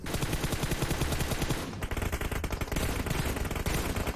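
Gunfire in the PUBG video game: dense, continuous automatic bursts, loud and close, with a short break near the middle before the rapid firing resumes with no speech.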